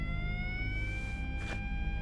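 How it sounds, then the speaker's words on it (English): A steady electronic siren tone in the video game Yakuza Kiwame 2 holds over a low rumbling background, with a brief burst of noise midway. "What kind of siren is that?"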